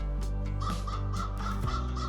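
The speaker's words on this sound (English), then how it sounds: "It's a crow." A crow caws several times in a row, loud and close, with harsh calls at a steady rhythm through a winter neighborhood in Canada and no one speaking.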